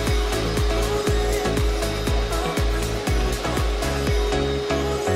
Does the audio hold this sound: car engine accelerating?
no